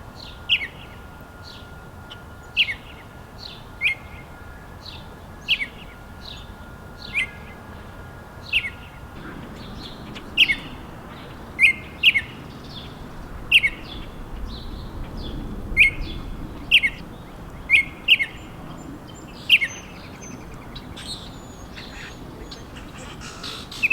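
Orioles sing in spring on their breeding territories, giving short, bright whistled phrases that repeat at a steady rhythm from nearby over a low background rumble.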